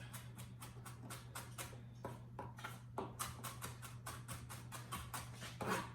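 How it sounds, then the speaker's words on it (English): A kitchen knife chops repeatedly on a cutting board while dicing food for buffalo shrimp and dressings, giving a quick run of sharp, close taps with a short pause partway through and a steady low hum underneath. "And then you just want to run the knife right back through it."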